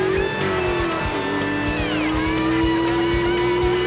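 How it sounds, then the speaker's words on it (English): A big orange drag race car spins its wheels at the launch, its engine roaring loudly and continuously with a rising whine and tire noise for several seconds, close and dominant. "Spinning the wheels a little bit. Getting on it pretty good."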